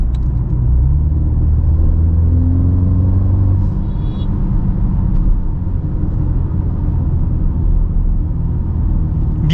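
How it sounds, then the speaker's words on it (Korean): A Mini Countryman JCW under full throttle gives a loud, deep engine rumble that climbs in pitch early on and then settles into a steady, close drone inside the cabin, with no talking. "이렇게 풀악셀 밟으면 사운드가 있어서 마치 스포츠 모드를 둔 것 같은 느낌이에요"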